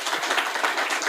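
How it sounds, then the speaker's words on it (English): An audience at a maritime forum panel in Varna claps briefly, a quick, bright patter of many hands lasting about a second. "Please applaud them."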